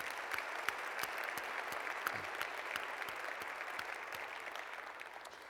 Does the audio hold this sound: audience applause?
yes